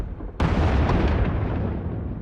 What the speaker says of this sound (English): Sounds like the bombing's getting closer.